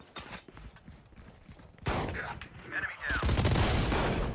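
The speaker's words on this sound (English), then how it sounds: "Ah, the shotgun." Shotgun blasts ring out in the shooter game Valorant, a few sharp bursts mixed with other gameplay sounds and a person talking over them.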